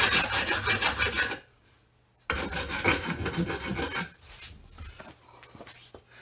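A metal hand file rasps across a C4 Corvette part in quick repeated strokes, with two dense bursts of scraping separated by a short pause and then lighter, scattered strokes, loud and close with no talking.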